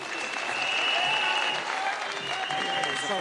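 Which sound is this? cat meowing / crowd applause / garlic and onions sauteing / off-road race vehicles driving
crowd applause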